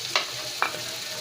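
Ginger garlic chilli paste frying in a pan, a close sizzle punctuated by two quick spoon scrapes, with no talking.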